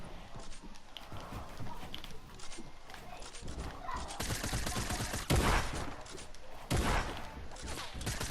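Video game gunfire crackles as rapid shots over a busy, dense bed of in-game noise, with a couple of sharper, louder bursts standing out toward the end.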